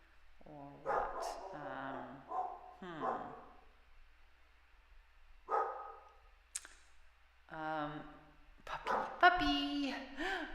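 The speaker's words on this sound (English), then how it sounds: "Uh-oh, doggy barking." A dog barks and yips intermittently in a home, somewhat distant, mixed with a person talking over it.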